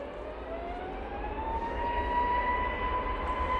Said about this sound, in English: Easyjet A321neo off twin feeder.